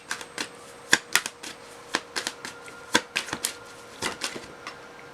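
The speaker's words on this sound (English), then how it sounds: "Let's get a couple more cards here." Tarot cards being shuffled and drawn, a quiet run of crisp irregular slaps and flicks, close and alone with no talking.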